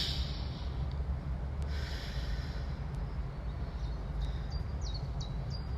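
Steady breathing during a sun salutation stretch in an outdoor home workout, heard as continuous airy breath over a low rumbling background, with faint bird calls chirping in the distance.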